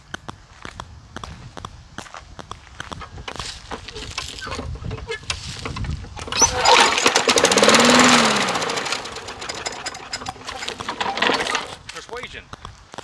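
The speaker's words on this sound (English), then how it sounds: "Now here comes the motor running if it's going to start." Lawn mower motor being started, irregular pull-cord rattles and clatter that swell into a loud rough engine sputter and run briefly before fading, close by.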